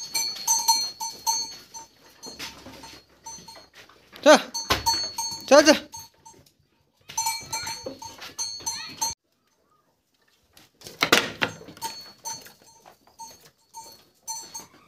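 Goats wearing clanking cowbells are herded indoors on a farm, with the bells ringing in irregular bursts and occasional bleats. A person calls out to urge them along.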